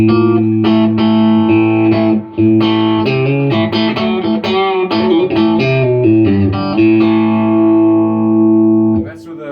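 An electric guitar plays chords and single notes through the drive channel of a Fender FM212R amp, lightly overdriven, with a gritty, sustained tone ringing out for several seconds.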